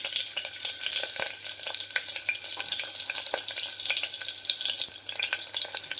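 Mustard seeds, cumin, green chili, garlic and ginger fry in a pan for a pancharatna dal khichdi tempering, giving a steady close sizzle and crackle with small pops throughout, no voices.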